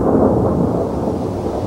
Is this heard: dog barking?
no